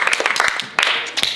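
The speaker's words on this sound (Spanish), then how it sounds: "¡Aplausos!" Short burst of clapping from a small group of people indoors, a few brisk, uneven claps that stop and restart, close and fairly loud.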